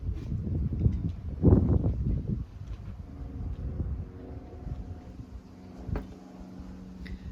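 Gusty wind buffets the microphone in low rumbling bursts, strongest early on, then settles into a softer steady rush.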